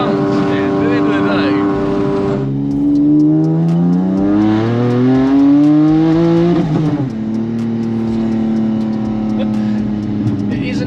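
A Nissan Navara pickup fitted with an 1100bhp R35 GT-R engine accelerates hard, its loud engine note climbing steadily through the gears, with brief dips at the shifts between strong pulls.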